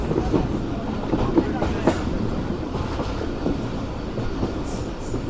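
A train standing at a railway platform with another train beside it, giving a steady rumbling station noise with faint clacks and knocks and a voice talking under it.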